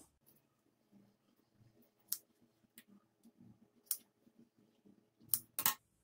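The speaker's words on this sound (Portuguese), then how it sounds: "Nesses cantinhos aqui, nós vamos cortar o bico." Scissors snipping the corners of sewn cotton fabric, giving several sharp, separate clicks and snips spaced irregularly across a quiet background, with two quick cuts close together near the end.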